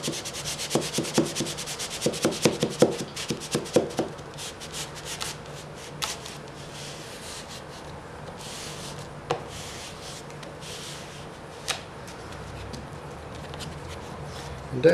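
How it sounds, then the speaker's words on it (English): A cork block is rubbed up and down over real wood veneer on a vintage hi-fi cabinet, quick close scrubbing strokes at first, then sparser rubs and faint scrapes. "grab your cork block, just up and down"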